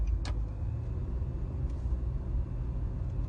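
A car drives along with a steady low rumble of road and engine noise from inside the cabin, a short click near the start, no talking.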